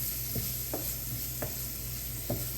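Egg roast masala sizzles steadily in a pan while a spoon stirs it, scraping four separate times at uneven intervals over the constant frying hiss.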